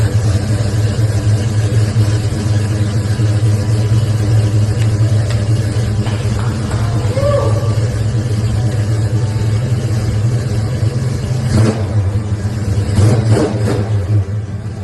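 A Ford Mustang engine runs close by, a deep steady rumbling idle, with a couple of sharp revs rising near the end.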